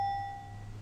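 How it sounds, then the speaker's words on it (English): A single short electronic doorbell tone sounds once at the start and fades quickly in a quiet room. "doorbell."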